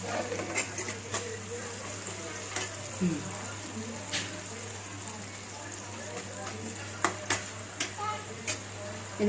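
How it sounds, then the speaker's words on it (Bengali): Thinly sliced onions frying on a medium flame for birista, giving a steady soft sizzle under intermittent stirring clatters and sharp scrapes, with a voice speaking at times. "গ্যাসের ফ্লেমটা মিডিয়াম রেখে পেঁয়াজ বেরেস্তাটা করব।"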